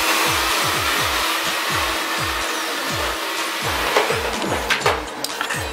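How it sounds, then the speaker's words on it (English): Hair dryer blowing at close range while a teen boy's hair is styled for volume in a salon, a loud continuous whoosh with a rhythmic pulsing flutter and light handling noises toward the end. "We're just going to blow dry his hair up just to get that volume in there."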